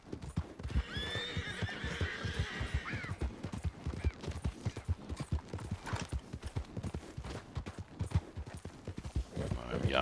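Horse in Red Dead Redemption 2 walking with steady hoof clip-clops throughout, whinnying near the start, with game ambience in the background.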